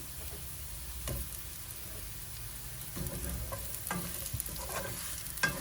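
Cut raw mango frying in a pan after a panch phoron tempering, with a soft steady sizzle and occasional scraping stirs of a spatula, close and fairly quiet, with no talking.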